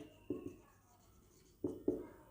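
Chalk or marker writing on a board during a classroom lesson, heard as a few short, faint scratchy strokes: one pair early on, then two more close together near the end, in a quiet room.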